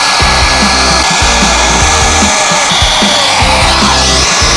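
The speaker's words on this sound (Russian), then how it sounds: "Второй способ – домашний фен. Выставляем температуру на максимум" A loud hair dryer blowing steadily at full power and maximum heat, a constant high whooshing roar with a whining motor tone close by.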